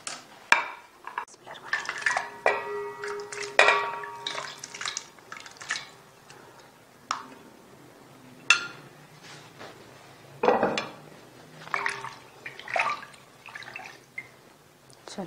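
Leftover curry pieces are dipped and rinsed in a bowl of water, giving irregular splashes, drips and clinks of utensils against dishes, fairly close and moderately loud, with no talk.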